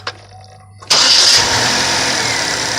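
A Saturn car engine cranks and fires up after a quiet moment, settling into a loud, steady idle with an early high whine, heard close with no talk over it.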